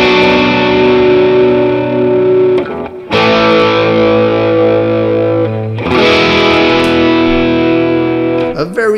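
An electric guitar plays through the V-Roto rotary effect of a Valeton GP-200LT multi-effects unit: loud, distorted, sustained chords ring out in three long phrases, each one cut off briefly before the next strum, with a swirling, reverberant character.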